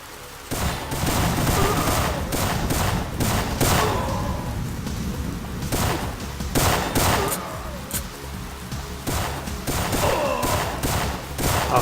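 Gunfire from the video game Syphon Filter comes in dense rapid bursts of fusillade, loud and continuous across the stretch with brief gaps, under a busy game soundscape.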